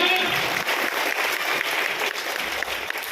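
Students at a PM SHRI government senior secondary school get a hearty round of applause from the audience. The dense clapping holds steady for about three seconds with a faint crowd murmur underneath.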